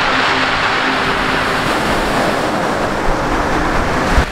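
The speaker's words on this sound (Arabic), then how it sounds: "اليوم الموجة طالعة" Rough waves break and roll onto a beach on the Mediterranean coast at Jebha, a steady close surf roar with wind noise throughout.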